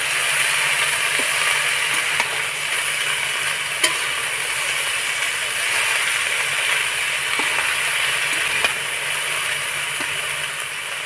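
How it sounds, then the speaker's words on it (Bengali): Cabbage curry being stirred in a hot pan, a steady sizzle and fry under repeated scraping and clinks of a spatula against the pan, close and continuous. "এবার নাড়াচাড়া করে নেবো একটুখানি।"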